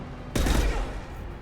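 A single loud burst of gunfire in the video game Mass Effect 2, a sharp close crack with a short ringing decay that fades over about a second.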